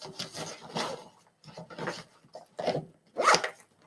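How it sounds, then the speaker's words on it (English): Backpack pockets are zipped shut in a series of short, close zipping rasps, about five or six separate pulls with brief pauses between them and no talking. "I zip up all my pockets."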